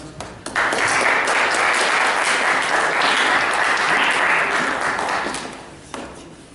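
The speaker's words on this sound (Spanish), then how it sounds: "Así que con fuertes palmas." Loud, dense audience applause at a philosophy school gathering, starting abruptly and holding steady before tapering off near the end, with a few isolated claps trailing.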